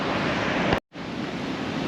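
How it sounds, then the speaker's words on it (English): Ocean surf rolls in along a wild Nullarbor coastline in South Australia as a continuous close wash of breaking waves, briefly cut to silence, then returning with some wind buffeting the microphone. "Awesome bit of surf coming in with a nice green, blue water, green bottom."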